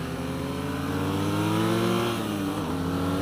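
A 2017 BMW R NineT Scrambler motorcycle exhaust drones steadily nearby, its engine note rising slightly and then dipping as the rider shifts, with no talking.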